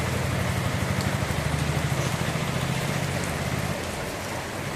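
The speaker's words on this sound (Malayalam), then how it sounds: "ഇന്ന് നല്ല മഴ പെയ്യുന്നുണ്ട്" Heavy rain falls steadily in Pettah, a thick continuous wash of drops with a low engine-like hum beneath that fades out near the end, leaving only the rain.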